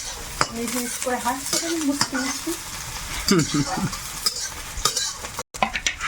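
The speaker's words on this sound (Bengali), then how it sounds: "পেঁয়াজটা হালকা ভেজে" Onion lightly fries in oil with whole cumin seeds for a home-cooked Bengali meal, a steady sizzle with stirring clatter of utensils, while a voice talks over it for much of the time.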